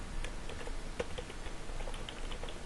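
Quick, light keystrokes patter on a computer keyboard, irregular taps at a fairly quiet level with no voices.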